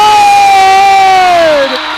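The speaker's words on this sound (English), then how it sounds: "The crowd erupts" A high school playoff basketball crowd roars right after a three-pointer, one sustained loud cheer with a prominent whistle-like whoop gliding slightly downward over two seconds before tapering off.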